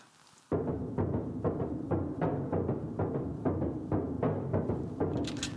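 Two xylophone parts, one panned hard left and one hard right, play a steady looping rhythm. The struck notes are quick and evenly pulsed, sit close, and continue without a break or any talking.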